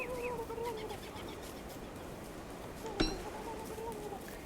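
Turkey in the video game Don't Starve giving warbling gobble-like calls, one near the start and another later, set against a soft, constant ambient game background.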